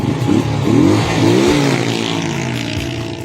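A new Rusi motorcycle on a road test runs close and loud, its engine rising and falling unevenly with sputtering misfires as the revs wobble.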